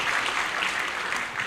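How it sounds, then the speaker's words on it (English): Brief burst of steady audience applause at a military decoration ceremony for newly promoted officers, dense and even clapping heard from a moderate distance. "Please, a round of applause for this senior."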